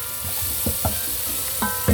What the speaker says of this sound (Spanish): Cocinamos el ajo por unos cuantos segundos.